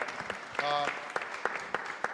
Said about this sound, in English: So let's give Ron another big, warm round of applause.